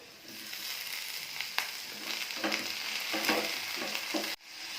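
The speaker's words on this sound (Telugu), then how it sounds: "ఇవన్నీ వేసి ఫ్రై చేసుకోవాలి." Ginger, onion, green chillies, tomatoes and cashews fry in a pan for a paneer curry, giving a steady close sizzle with scraping stirs and a few clinks. A sharp cut near the end briefly drops the sizzle before it continues.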